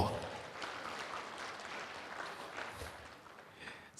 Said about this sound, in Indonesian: Kita berikan tepuk tangan untuk Bapak Gendut Suprayitno.